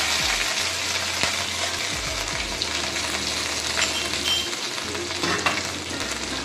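Crushed ginger and green chili hit hot oil in a pan for a vegetarian sabji, giving a steady, close, loud sizzle with a few stirring scrapes and no talking.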